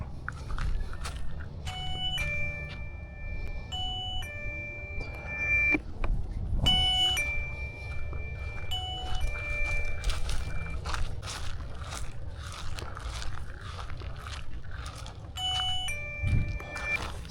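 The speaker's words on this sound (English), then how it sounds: "let's sneak up on this alarm system here" A LETWESAF camping perimeter alarm sounds in repeated bursts of steady high beeping tones, starting and stopping several times, alongside rustling, crunching steps and outdoor noise.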